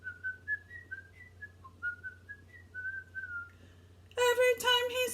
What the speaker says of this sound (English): whistles Yankee Doodle.